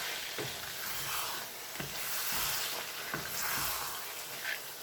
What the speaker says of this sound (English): Make sure you stir it properly.